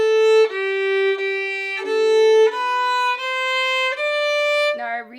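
Violin played alone, bowing the first measures of a beginner song as a run of even, sustained quarter notes stepping between pitches, clear and close with no talking.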